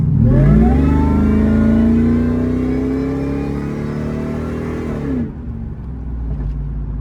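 A 1990s Ford Lightning SVT pickup truck engine, stock pulley, accelerates hard, its pitch climbing steadily for several seconds before cutting off abruptly, loud and close.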